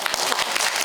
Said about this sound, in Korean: 자, 다 같이 박수.